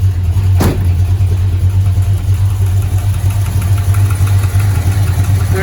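A 1968 Dodge Dart's 360 V8 engine idles close by with a steady, deep throbbing rumble, one brief sharper blip near the start, then an even hum.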